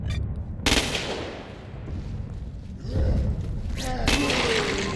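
Video game gunfire in sudden loud bursts, one early and another near the end, with quieter rumbling and whooshing action sounds between them.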